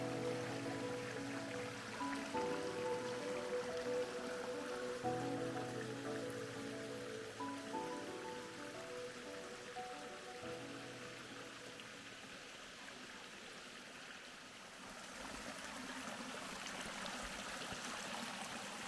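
A small waterfall brook on the Cascade Mountain trail flows with a steady, soft rushing and splashing over rocks that continues throughout.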